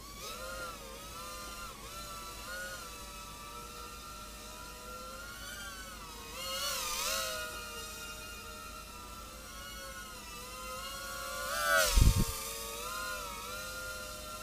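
Cheerson CX-10 micro quadcopter flying on tiny propellers, a thin high whine that holds steady, then rises and falls as the throttle shifts, with a brief louder bump near the end; fairly faint, no talk.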